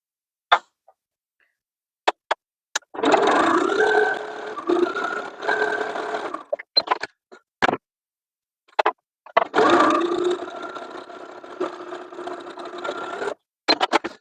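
A sewing machine runs long parallel basting stitches on a pullover top in two steady bursts of whirring several seconds long, with clicks and short pauses between them.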